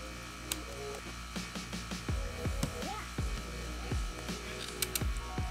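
Small metal C-clips being worked off a fuel pump on a 2015-2020 Subaru WRX STI: a string of sharp close clicks and snaps at irregular intervals over a steady low hum.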